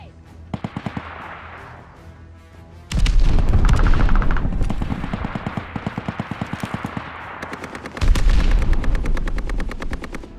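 Grenade blasts and gunfire in the Call of Duty: Vanguard video game, two heavy booming explosions with rapid automatic shots crackling between and after them, loud and close.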